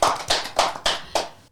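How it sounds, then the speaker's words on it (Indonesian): Five separate hand claps, close and sharp, spaced in an irregular rhythm with short decays between them, as in a podcast studio, with no talk over them. "Tepuk tangan dulu dong guys"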